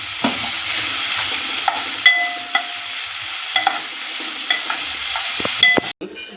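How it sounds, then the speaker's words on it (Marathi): Finely chopped onion frying in hot oil with cumin seeds for an egg masala, a steady broad sizzle with scattered spatula scrapes and clicks throughout, stopping abruptly near the end. "जिरं भाजून झाले तर यात आपण थोडासा कांदा टाकूया"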